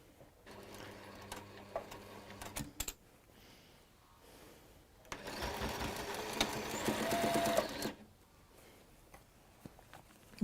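A sewing machine stitching in short starts, then a sustained whirring run of several seconds before stopping, fairly close and without talk.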